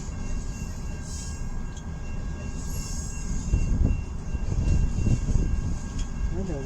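A long, heavy CN mixed freight train with many tank cars rolls past a trackside spot in Richmond, Michigan, its steady rumble and wheel clatter swelling midway as it speeds up, with faint voices talking briefly.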